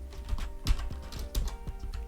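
Typing on a computer keyboard during point-of-sale software setup, with irregular close keystrokes and a few heavier key thumps over a faint background hum.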